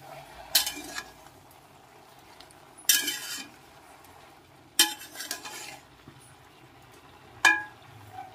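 A metal pot lid is set on a pan of onions and capsicum cooking on the stove. Several sharp clinks and clanks land a few seconds apart over a soft background sizzle.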